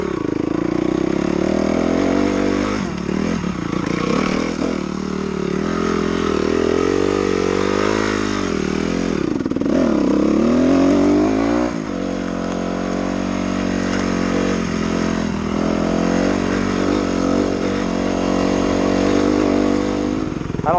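A dirt bike rides through snow, its engine loud and steady near the microphone, revving up and down throughout with no pauses.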